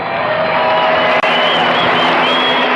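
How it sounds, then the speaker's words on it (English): A large crowd at the Kentucky Derby winner's circle roars and cheers loudly and steadily, with a brief dropout midway and scattered whoops rising out of the sustained din. "and a big cheer from the crowd."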